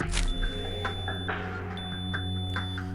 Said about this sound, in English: All of a sudden, her PDA beeped.